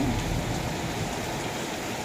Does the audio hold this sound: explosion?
no